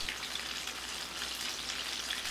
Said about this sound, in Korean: 지글지글 보글보글 노릇하게 튀겨냅니다.